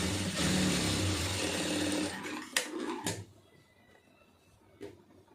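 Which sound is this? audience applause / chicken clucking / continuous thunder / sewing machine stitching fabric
sewing machine stitching fabric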